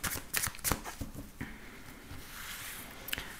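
A deck of tarot cards shuffled for a reading, soft close riffles and quick flutters in a few short bursts, quiet and alone with no speech.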